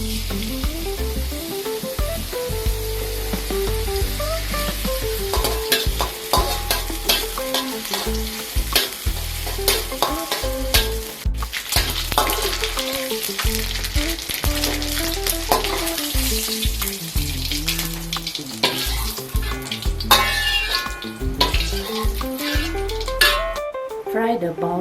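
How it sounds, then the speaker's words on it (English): Anchovies fry in a hot pan, sizzling and crackling steadily while a utensil scrapes and clinks against the pan in irregular strokes, close by and loud throughout. "So first of all, fry the anchovies."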